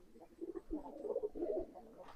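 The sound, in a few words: adult female pigeon cooing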